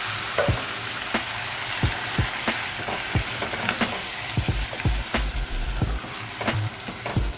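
Chorizo sauce with chopped tomatoes sizzles in a pan under a steady hiss, punctuated by frequent knocks and scrapes of a spoon as it is stirred. The sound is close and moderately loud, and no one talks.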